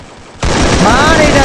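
Gunfire in a battle royale video game, a loud, sudden, sustained burst of rapid shots that cuts in after a quieter moment and runs to the end.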